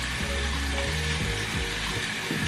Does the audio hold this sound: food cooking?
yes